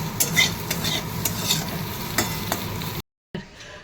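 Eggplant sizzles in a pan while a spatula stirs and scrapes it in repeated clinking strokes, close and clear, broken by a brief gap of silence near the end.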